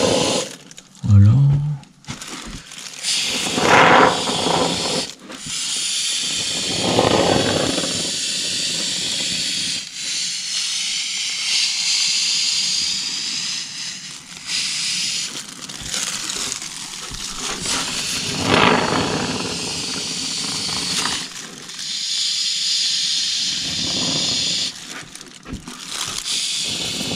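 A can of polyurethane spray foam hisses in long, breathy bursts with short pauses while gaps around a roof window are filled, close and fairly loud, with some crinkling and handling noise.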